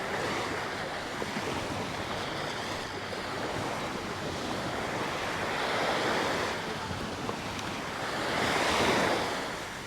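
Waves break steadily on a beach on a Thai island, a continuous broad wash of surf with slow swells of louder crashing, mixed with wind buffeting the microphone and no voices.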